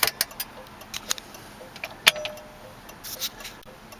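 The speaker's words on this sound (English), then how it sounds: "flasher's still going" Turn signal flasher ticking in a 1968 AMC AMX with a 401 engine, a run of sharp, fairly faint clicks at an uneven pace with no talking.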